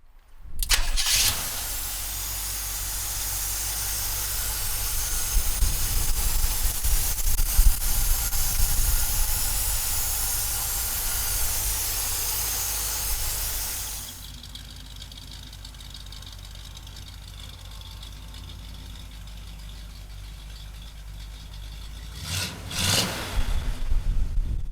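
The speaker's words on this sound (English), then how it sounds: "we'll fire it up for you right now" A 1971 Chevrolet K5 Blazer engine cranks and catches, then runs loud and rough before settling into a quieter steady idle, with a brief rev near the end.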